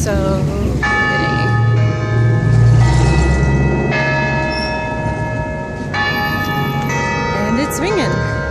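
Church bells in Santa Fe ring and chime with sustained overlapping tones, fairly loud and close, over a low background rumble and some distant voices.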